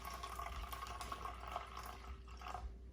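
Tap water pours into a cup for a home DNA extraction project, a soft continuous splashing trickle that stays low and steady before tapering off at the end.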